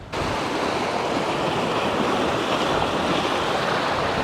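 Ocean swell breaks on the rocks along a fishing shoreline, a sudden roaring wash of surf that surges in and holds as a loud, continuous churn of water, close by and with nobody talking.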